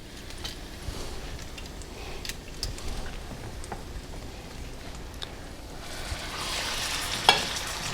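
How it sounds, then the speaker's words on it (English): Pot roast meat sears in a hot pan with a low, steady sizzle and scattered light ticks and crackles, growing slightly louder near the end with one sharp knock. "we're going to sear the outer layers first, and it kind of helps hold the flavor or the juices into the meat"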